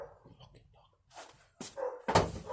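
A neighbour's dog barks next door, giving a few sharp, fairly close yelps and barks amid room noise near a Lada car being restored.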